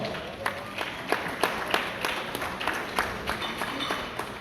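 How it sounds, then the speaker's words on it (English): A crowd at a healthcare symposium conference in Detroit, Michigan gives the chairman a round of applause: steady, moderately dense clapping with sharper individual claps standing out, heard close and at a fairly even level throughout. "Give the chairman a big round of applause."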